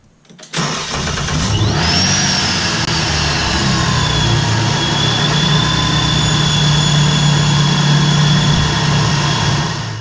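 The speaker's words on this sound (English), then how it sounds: "we'll go ahead and start the car and let that belt start going around" A modified car's engine cranks and catches after a brief pause, then settles into a steady, loud idle with a whining belt tone rising and holding, heard close for about ten seconds.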